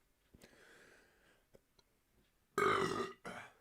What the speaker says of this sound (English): I need to burp.